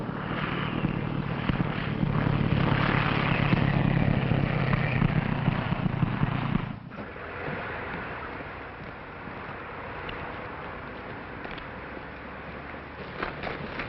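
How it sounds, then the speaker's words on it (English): A plane's engine drones as it comes in to land, a steady rumbling roar that drops abruptly halfway through to a quieter, lingering hum. "Barton's plane has just landed."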